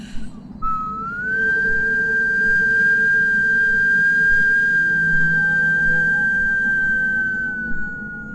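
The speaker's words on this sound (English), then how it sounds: "It was a sad, haunted" A single long, eerie whistle slides up and holds a steady high tone for several seconds before sagging slightly at the end, over a low rumble.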